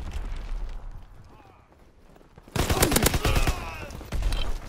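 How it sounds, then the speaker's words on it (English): Grease gun submachine gun firing in Call of Duty: WWII team deathmatch, a loud rapid burst of automatic gunfire after a quieter stretch of ambient battle noise, with a voice talking over the game. "Let me try this fucking grease gun."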